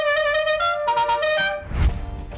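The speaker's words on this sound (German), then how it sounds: "Selbst das bekannte Hupen, tadellos." An old Opel Manta's horn honks in a few loud, steady tonal blasts, then a short rumble of engine or handling noise closes it, with no one talking.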